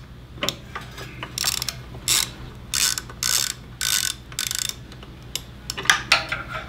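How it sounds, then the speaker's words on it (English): An Allen wrench clicks and ratchets while starting bolts on a SW Motech crash bar being fitted to a KLR650 motorcycle, a series of sharp, close metallic bursts separated by brief pauses. "On this, you're going to use a 5 millimeter Allen, and we'll go in here and just try to get that started."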